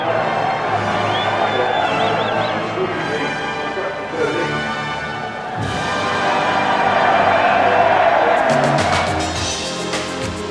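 A packed crowd roars in uproar after a Nigel Mansell race win, a sustained swell of cheering and shouting that builds and stays loud throughout, with voices mixed into the din.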